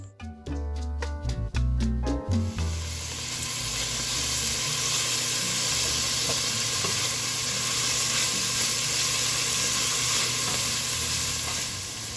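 Peppers, onions, garlic and a bay leaf hit a hot pan for a corn stew, bursting into a steady, loud sizzle that settles into continuous frying after a few brief stirring knocks at the start.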